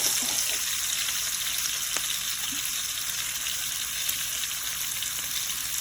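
Garlic sizzles steadily in a frying pan alongside potatoes, a constant close crackling hiss with no speech over it.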